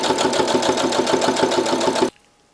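A sewing machine runs steadily for about two seconds, stitching a wrinkly, pinned shirt turned inside out, with a fast, even mechanical chatter that cuts off abruptly into near silence.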